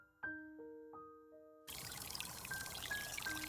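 Water pours and splashes for washing hands and face, a burst of running, splashing water after a few soft musical notes, continuing steadily as a background flow.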